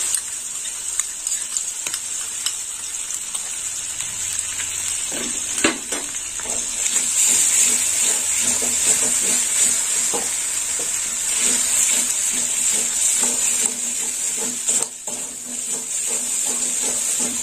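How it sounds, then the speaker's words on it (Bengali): Green chilli paste fries and sizzles steadily in a pan for a chichinga (snake gourd) curry, with occasional stirring scrapes and clicks over a constant hiss, no talking. "দিয়ে দিলাম কাঁচা লঙ্কা বাটা"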